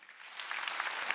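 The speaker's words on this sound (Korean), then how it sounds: "박수 좀 쳐줘요." Applause from a church congregation during a Sunday worship service, a short, moderately quiet burst of clapping that swells slightly and carries on steadily without speech.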